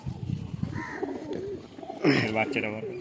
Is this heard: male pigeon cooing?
yes